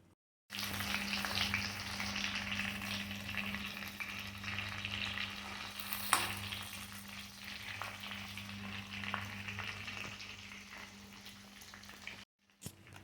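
Stuffed brinjals fry in oil in a pan, a close, continuous sizzling and crackling hiss with an occasional louder pop.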